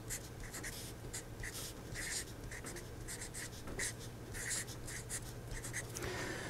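Pen or marker writing out a math equation by hand, with faint scratchy strokes in short bursts over a low steady room hum.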